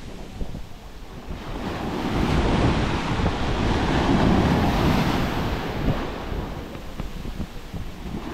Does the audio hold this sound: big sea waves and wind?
yes